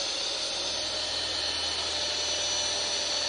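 A power drill spins at full speed into a Nike Air shoe, a loud, steady high-pitched whine with no break.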